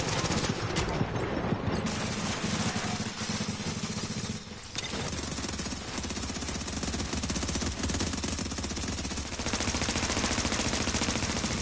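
Rapid automatic gunfire from a shooter video game, dense bursts running almost continuously and loud throughout, with distant shots and game effects layered in and a brief dip midway.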